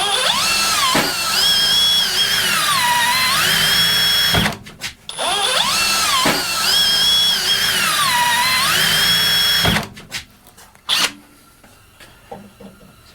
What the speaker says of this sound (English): hold the bottom of the auger and then drill down from the top